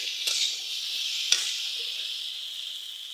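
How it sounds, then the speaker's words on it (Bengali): Vegetable curry cooking in a home kitchen pan, a steady bright sizzle with a couple of sharp utensil clinks as it is stirred, close and fairly quiet. "এখানে মা তরকারি রান্না করছে, জলটাও দিয়ে দিল"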